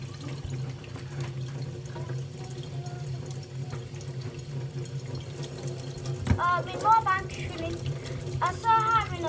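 Tap water runs steadily into a sink for washing, a constant close hiss with brief splashes, while voices talk over it.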